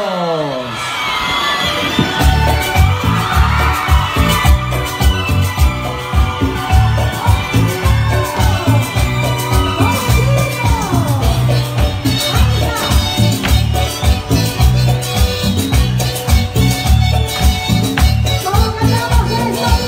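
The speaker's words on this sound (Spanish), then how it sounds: "¡Fuerte los aplausos!" A large festival crowd at the Quito fiestas cheers, whoops and applauds loudly and continuously for a singer, with shouts rising over a steady roar and music playing underneath.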